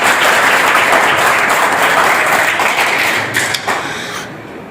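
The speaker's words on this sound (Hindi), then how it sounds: "ताली जरूर बजाया जाए" Loud, dense clapping from the audience at a kavi sammelan poetry recital, a full sustained round that thins out toward the end.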